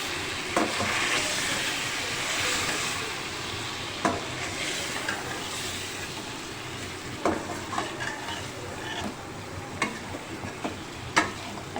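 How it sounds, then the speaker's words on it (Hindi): Haleem ingredients being stirred together in a cooking pot, a steady close sizzling hiss broken by repeated scraping knocks of the spoon against the pot. "अब हम इसे भी साथ साथ मिक्स कर लेते हैं"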